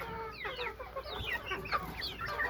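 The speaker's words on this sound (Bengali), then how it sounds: "এইখানে আছে বড় মুরগিগুলা" Large chickens cluck steadily in a dark coop where they are shut in against rain, with overlapping calls close by and no talk.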